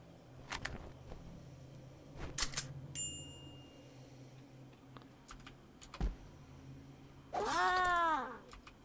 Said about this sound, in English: I really don't want that cat around. No, it sounds terrible